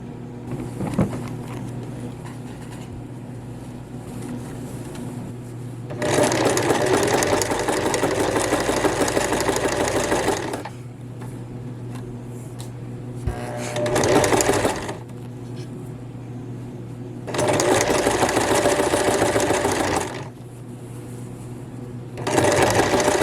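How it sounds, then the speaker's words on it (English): Sewing machine motor running in three long stitching bursts around a skirt using the free arm, loud and close, with quieter pauses in between. "I like to use the free arm of my sewing machine"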